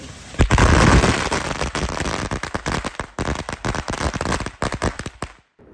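Consumer fireworks burst in a rapid barrage of loud, close cracks and pops, dense at first and then thinning into scattered bangs before cutting off, set off at a home display in Denver.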